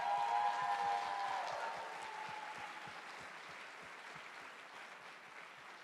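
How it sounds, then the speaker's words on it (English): An audience at the Erasmus Generation Meeting closing ceremony in Seville applauds, a full, steady crowd ovation that starts loud with a brief tonal ring and gradually softens. "you deserve an applause as well"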